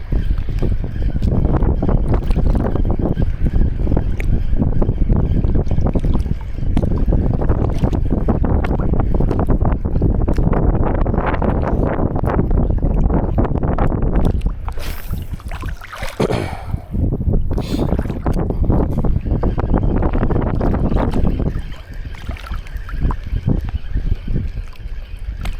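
Strong wind buffets a small fishing boat out at sea, a loud continuous roar and rumble that dips briefly in the middle before surging back, with no voices.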